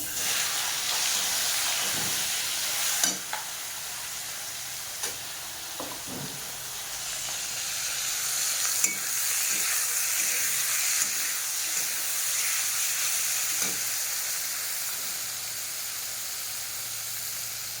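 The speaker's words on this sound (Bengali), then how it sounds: "চিংড়িটা লবণ হলুদ দিয়ে ভেজে নেব, তেলে দিয়ে দিলাম।" Prawns seasoned with salt and turmeric sizzle in hot oil in a pan, a steady crackling hiss with scattered pops and occasional stirring clicks, moderately close and without talk.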